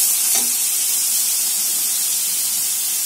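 Onion paste drops into hot oil in a pan for a fish and banana curry, setting off a loud, steady, close sizzle that hisses on unbroken throughout.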